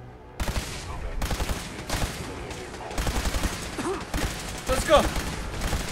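Rapid bursts of gunfire from a Fallout 4 firefight, repeated volleys and heavy automatic shots with impacts, loud and close, with a player shouting over the shooting.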